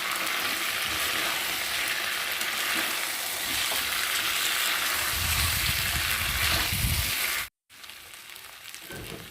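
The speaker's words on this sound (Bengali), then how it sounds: "আর এখন আমি ভেজে রাখা আলুগুলোকে চিকেনের সাথে দিয়ে ভালো করে কষিয়ে দিচ্ছি।" Chicken and fried potatoes stir-fry in a pan, giving a loud, steady oily sizzle with stirring scrapes, cut by a brief silence near the end before a quieter frying tail.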